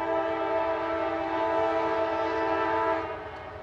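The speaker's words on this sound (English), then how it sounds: "Running along CSX Kenova subtracks are this pair of AC44CWs, numbers 81 and 217." A pair of CSX AC44CW diesel locomotives running along the Kenova subdivision tracks, a steady droning engine rumble with sustained tonal hum, moderately distant and fading slightly at the end, no voices.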